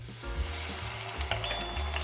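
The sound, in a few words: spinach frying in hot oil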